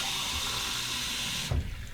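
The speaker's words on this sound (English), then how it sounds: "Let me fill up my cup with some hot water," Hot water pours from a tap into a marble shaving cup, a steady rushing hiss that abruptly cuts off near the end, followed by a brief clunk and fading drips.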